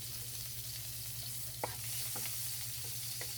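Onion and garlic sautéing in hot oil left over from frying fish, for a pechay and fish-head dish: a steady close sizzle with a few sharp stirring clinks and scrapes, no talking.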